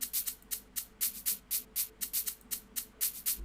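Shakers layered over a simple trap hi-hat pattern form a steady stream of quick, hissy high-pitched ticks at an even, fast rhythm, soft and dry.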